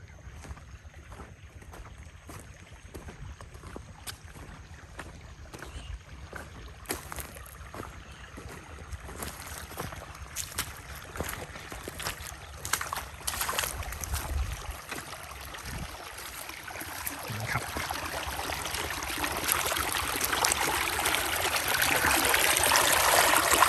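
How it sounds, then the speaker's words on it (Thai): Irrigation water flows into a sugarcane field being prepared for planting, a steady rushing wash that grows louder toward the end, with wind buffeting the microphone and no speech. "ปล่อยให้น้ำไหลอย่างนี้เลยนะครับ"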